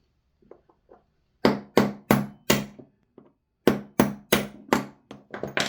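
A 3mm pin punch is struck with a hammer while working on a Tokyo Marui Saiga 12 airsoft gun: a few light taps, then two runs of four or five sharp, close, evenly spaced metallic blows.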